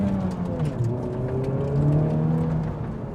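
Honda Civic Type R accelerates hard from a standstill, its engine note climbing steadily through a whirring, rising drone heard from inside the cabin, with no talking.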